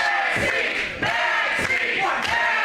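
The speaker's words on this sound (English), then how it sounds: "The crowd firmly behind Maxine here, Lucas." Wrestling crowd at a live pro wrestling show cheers and roars loudly and continuously, with swelling shouts and chants filling the arena for the whole stretch.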